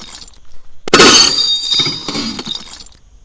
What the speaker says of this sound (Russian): И теперь наконец-то мы разбили это стекло.